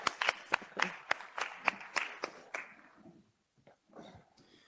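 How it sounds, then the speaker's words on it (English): A conference audience claps in a sparse, uneven burst of about a dozen sharp hand claps over three seconds, then it trails off into a few faint scattered claps. "Yeah, you can clap."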